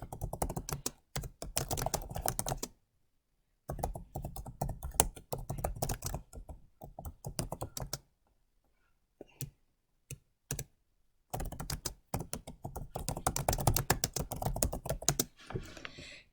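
Fast, continuous typing on a computer keyboard while writing a discussion board reply, dense bursts of close, crisp key clicks broken by a few short pauses and isolated taps.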